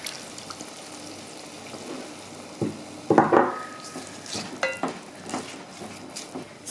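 Water pours into a pot of chicken adobo in the kitchen, a close splashing gush in short bursts over soft background clinks and rustling, with no talking.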